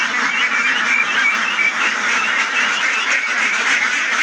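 A large flock of farmed ducks quacks continuously in a dense, loud chorus of overlapping calls, with no talking.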